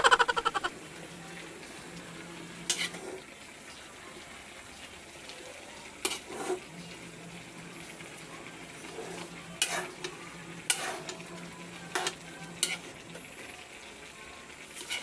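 Ginataang papaya, green papaya in coconut milk, is stirred in a pot as it comes to a simmer, with intermittent utensil clanks and scrapes over a low steady bubbling hiss.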